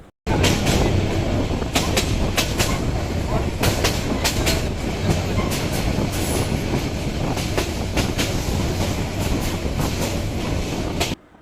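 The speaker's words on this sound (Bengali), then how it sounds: "তার মাঝেই ছুটে চলেছে আমাদের ট্রেন" Steady clickety-clack of a train running on tracks near Cox's Bazar, Bangladesh, loud and close, with a rhythmic rattle of wheels over rail joints.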